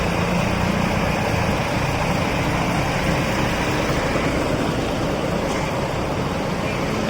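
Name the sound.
bus engine idling at terminal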